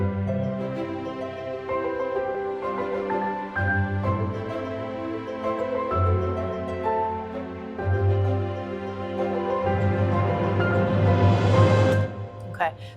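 A gentle piano melody carries the tune while sustained strings play softly underneath, steady and unhurried throughout.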